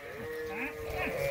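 Sheep on a farm bleat in a muddy, snowy pasture, a few wavering calls heard fairly faintly against the outdoor background.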